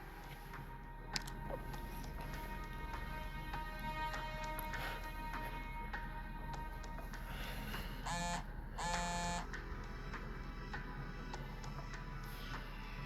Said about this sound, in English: Phone is ringing, ma'am.